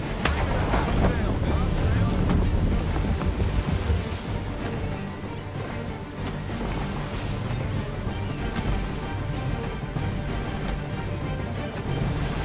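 Sailing ship in Assassin's Creed III pushing through wind and surf, a dense, steady roar of gusting wind and crashing waves that fills the whole clip, loud and close with a slight dip midway.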